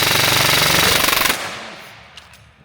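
Airsoft rifle with a 6.02 mm tight-bore barrel and TDC hop, firing 0.32 g BBs on full-auto, dumps a magazine in a loud rapid buzzing burst that stops abruptly and fades into quiet.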